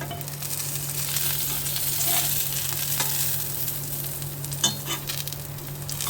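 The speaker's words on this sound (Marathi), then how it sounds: "झाकणे काढून याला पलटून घ्या." Stuffed bitter gourds fry in oil in a pan over medium heat, giving a steady, loud sizzle, with a few soft scrapes and clinks as they are turned.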